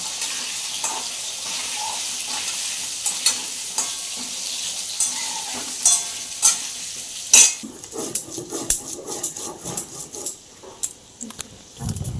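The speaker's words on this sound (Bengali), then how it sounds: "আমি আলুগুলোকে আমি ভেজে নেব লাল করে ভেজে তুলে নেবো" Potatoes fry in hot oil tempered with cumin and garam masala for a singi and magur fish curry. A steady, close sizzle runs throughout, broken by scraping stirs and a few clinks of a utensil against the pan.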